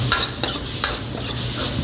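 Garlic potatoes frying in a pan in a restaurant kitchen, a loud close sizzle broken by a few sharp scrapes of a utensil stirring them.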